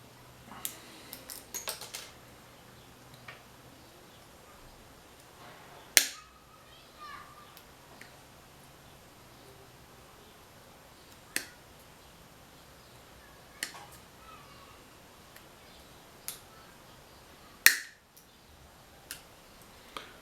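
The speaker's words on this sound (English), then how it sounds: "let's go ahead and clip all this off of here" Pliers snip off plastic pieces on a van during knock sensor work. Sharp, isolated clicks and snaps come every few seconds against a quiet background, with a cluster of small ticks near the start.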